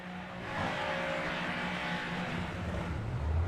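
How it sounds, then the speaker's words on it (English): Super Formula Lights race car engines warming up on the grid at Misano World Circuit before a heat race, a steady dense engine roar holding throughout with slight swells, no talk over it. "Sounds like the engines are warming up as we're going to get ready to go here."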